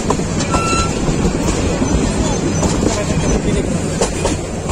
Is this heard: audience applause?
no